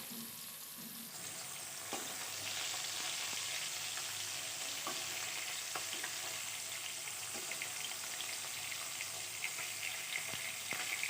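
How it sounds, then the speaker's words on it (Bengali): Pieces of rui fish fry in hot oil with a continuous bright sizzle that swells after a quiet start, dotted with small pops and crackles, heard fairly faintly without voices. "এখন মাছগুলো প্রথমে ভেজে নিচ্ছি"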